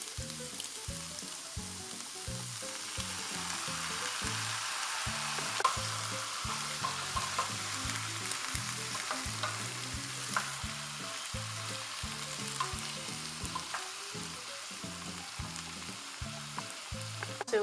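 Coral lentils and tomato sauce sizzle in a pot over medium heat, with a steady frying hiss and repeated soft scrapes and knocks of a spoon stirring throughout.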